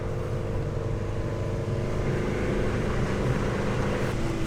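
A broken car rolls off in first gear on a rough offroad track in Romania, its engine a steady, loud low drone throughout with no pauses or talk.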